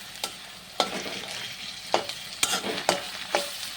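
Onion with garlic and ginger paste fries in oil, giving a soft steady sizzle broken by several sharp scraping stir strokes, close and fairly quiet, with no talking.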